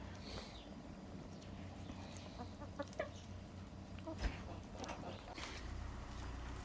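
Chickens cluck softly in short scattered calls over a low, steady farmyard background hum.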